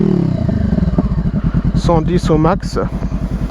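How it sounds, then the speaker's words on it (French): A motorcycle with a newly fitted exhaust is blipped from idle. It gives loud, close, throaty revs that rise and fall in short bursts under a voice. "Maintenant quelques petits coups de gaz."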